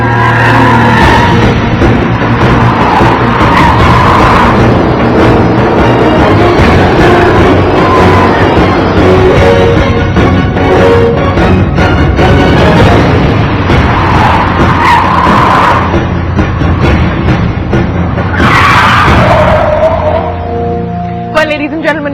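Loud, continuous engine roar with repeated tire squeals and skids as cars slide around a very wet racetrack in Sriperumbudur, India, with a voice talking over parts of it.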